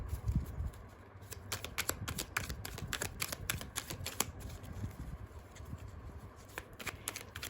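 Tarot cards are shuffled in quick, soft riffling bursts with crisp flicks and pauses, close and fairly quiet.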